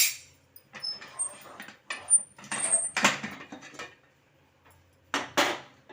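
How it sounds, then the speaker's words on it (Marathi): A pressure cooker lid is worked loose and lifted off after cooking moong dal khichdi, heard as several close metallic clanks, scrapes and clinks in short bursts separated by quiet gaps. "तर इथे आता कुकरची वाफ पूर्ण गेलेली आहे झाकण काढूया"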